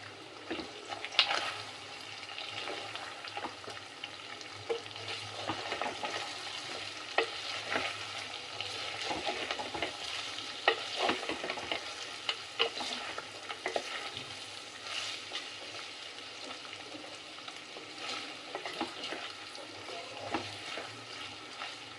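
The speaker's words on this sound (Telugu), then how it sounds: "తర్వాత ఇలా ఫ్రై అవుతుంది. పైన ఆయిల్ ఉంది చూసారా, ఆయిల్ ఇలా వచ్చేస్తుంది." Chicken frying in oil in a pan gives a soft, continuous sizzle with small crackles and spatters popping through it, staying close and fairly quiet for the whole stretch, with no one talking.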